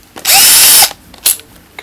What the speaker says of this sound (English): We'll come back in the morning and drill a new hole.